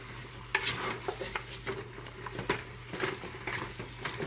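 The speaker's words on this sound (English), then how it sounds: "Just give it a little mix." Beef stew being stirred in a pot, a spoon scraping and sloshing through chunky meat and liquid in several soft, close strokes, with a faint sizzle underneath and no talk.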